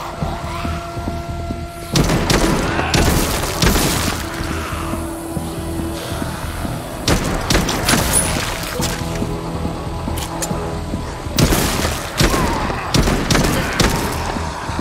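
Desert Eagle pistol fire in the zombie shooter Arizona Sunshine 2, several loud sharp shots spaced irregularly over steady game background noise, with no talking.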